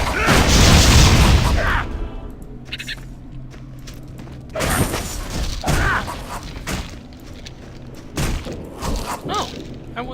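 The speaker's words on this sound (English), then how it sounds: "Exploding doggies." Exploding dogs blowing up in the video game Torchlight 2: several heavy booming blasts with thuds and crackling debris, one loud burst at the start and more at intervals, with a voice talking between them.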